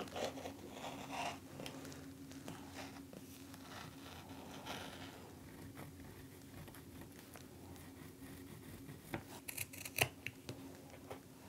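Scissors trimming fat-eighth fabric pieces for a small wristlet, faint scattered snips and rustles against a quiet room hum, with a cluster of sharper cuts toward the end and no talking.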